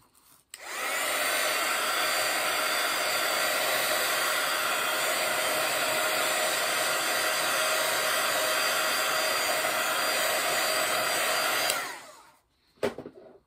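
A hair dryer drying painted spots on a handmade craft piece, a steady loud whooshing blow that starts abruptly, runs unbroken for about eleven seconds, then switches off with a brief clatter.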